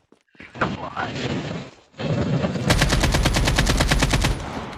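Rapid automatic gunfire from a video game shooter, loud and close, with a long burst of evenly spaced shots after earlier scattered firing and action noise.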